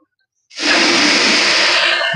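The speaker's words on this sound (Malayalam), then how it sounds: "ഒരു 5 തേങ്ങയുടെ പാലൊഴിക്കുകയാണ്." A steady, fairly loud rush of coconut milk pouring into a pot for payasam. It starts abruptly after a brief silence and continues evenly to the end.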